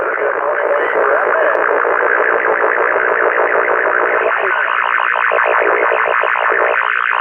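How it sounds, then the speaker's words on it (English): Loud, steady 11-meter CB radio skip noise, a dense band of hissing static with warbling, fading distant transmissions, continuous for the whole stretch. "like skip noise"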